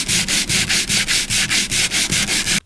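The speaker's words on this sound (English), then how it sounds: "100 grit and see how it starts to break down this material." Hand sanding of Subaru WRX wing material with 100 grit sandpaper, about a dozen loud, even back-and-forth rasping strokes in a quick steady rhythm, close up and without talk.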